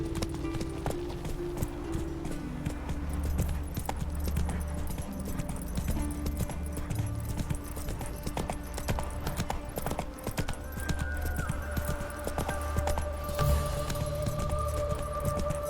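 Roach, the horse in the video game The Witcher 3, trots along with a continuous rhythmic clip-clop of hooves over a low droning game soundscape.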